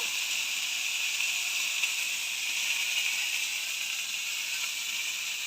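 Pointed gourd pieces fry in hot oil, a steady close bright hiss holding even and unbroken from start to finish, with no voices.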